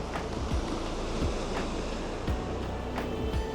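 Waves wash onto the Traeth beach shore, a steady soft rush of surf with faint periodic thumps, fairly quiet and without voices.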